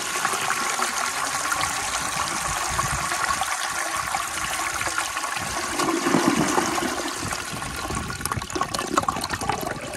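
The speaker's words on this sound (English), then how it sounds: "I'm gonna flush it" A 1920 Standard Ejecto toilet flushes with a weak, steady rush of water that swells slightly midway and then settles into a continuous trickle, loud and close, with no talking.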